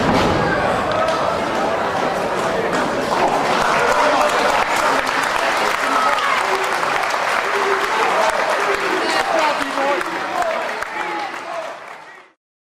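Wrestling crowd at a CZW event applauding after a match, a dense sustained wash of clapping and cheering that fills the room, then cuts off abruptly.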